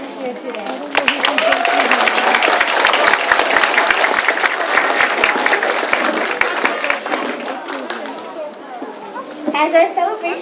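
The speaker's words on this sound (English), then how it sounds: "Let us give another round of applause to all veterans here today." Applause from an audience of students and guests honoring veterans at a school Veterans Day ceremony, a dense run of clapping that fades toward the end as a voice resumes.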